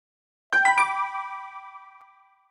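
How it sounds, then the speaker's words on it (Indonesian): An incoming-message notification tone on a mobile phone: a single bright, bell-like chime of a few quick struck notes that rings on and slowly fades, heard alone. "Nada pesan masuk di ponsel Aileen berdering, sedikit membuat Kafan menoleh ke layar pons"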